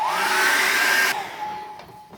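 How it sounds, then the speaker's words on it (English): A hair dryer blows hot air over a freshly painted sky, a loud steady whine for about a second before it cuts off and trails away quietly. "I'm going to chuck the hairdryer on that now. Dry that sky off."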